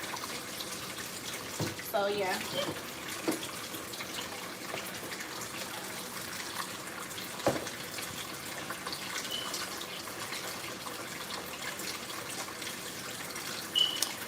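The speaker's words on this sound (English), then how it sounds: "here I am mixing it with water so I can wash these last little bit of dishes" Tap water runs into a kitchen sink while dishes are washed, a soft steady stream with occasional clinks and splashes; a voice speaks briefly over it.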